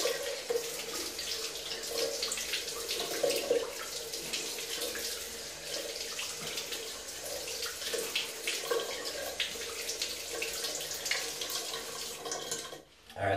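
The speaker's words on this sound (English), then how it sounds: "re-soften them with a little bit of warm water right now" Warm water running steadily from a bathroom tap into a sink, a continuous close splashing hiss with slight fluctuations, ending in a brief pause and a small knock.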